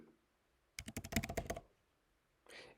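Rapid keystrokes on a computer keyboard as keywords are entered into an input field: a dense, close burst of clicking lasting under a second, then quiet and a short final tap.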